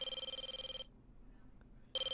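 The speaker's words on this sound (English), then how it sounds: "Oh, that was a phone!" A telephone bell rings in rapid, steady pulses for under a second, falls silent, then starts again at the end, loud and close.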